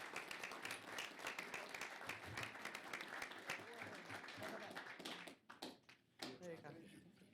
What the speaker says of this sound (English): give him a huge round of applause right now